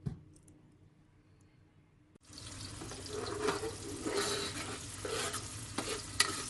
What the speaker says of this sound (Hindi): हाफ कप ऑयल में मैंने एक छोटा प्याज लिया है, उसको काट लिया है और ऐड किया है।